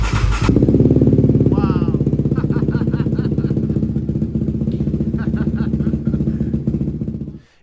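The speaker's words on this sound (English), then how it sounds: "we had full power and the fuel pump was priming and the quad would start" A Yamaha Raptor 700 quad fitted with a Vortex ECU in place of the factory unit runs loud and close with a steady, rapid thumping idle before cutting off at the end; a voice briefly exclaims over it.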